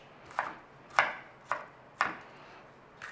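A knife finely dices an onion on a cutting board for a creamy chicken orzo. Five crisp, evenly spaced chops land about half a second apart, close up and clear, with no voices.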